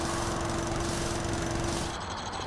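A drill in the Ben 10: Cosmic Destruction video game grinds out a loud, continuous mechanical whir with a steady tone, then drops off slightly near the end.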